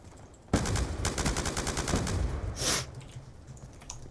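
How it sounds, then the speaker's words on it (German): Gunfire in the online multiplayer game Call of Duty: Black Ops 2: a loud burst of rapid automatic shots running for about two seconds, followed by a short rushing blast and then quiet game ambience. "Wie oft muss ich eigentlich noch auf deinen dummen Kopf schießen, bis du stirbst?"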